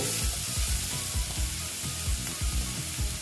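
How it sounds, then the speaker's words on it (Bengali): Onions frying in a pan, with a steady bright sizzle throughout and regular low scraping strokes from stirring roughly every quarter second, close and fairly loud. "আর পেঁয়াজটা আচ্ছা, ভালো মতন আমি ভেজে নিচ্ছি"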